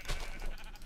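Sheep bleating in Minecraft (Feed The Beast modpack), a steady nasal bleat lasting under a second, close and fairly loud, with no talking over it.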